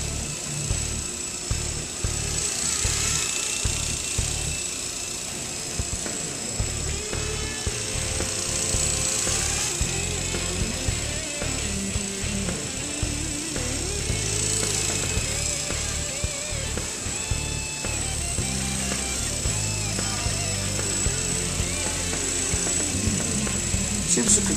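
Small Blade 120 SR radio-controlled helicopter flying forward in a small indoor room, its high, whiny rotor and motor buzz rising and falling as it moves, with someone talking over it.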